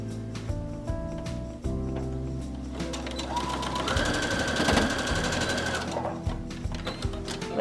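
A sewing machine stitching straps runs in a steady close mechanical whir with rapid rhythmic ticking, pausing briefly before resuming at a constant pace.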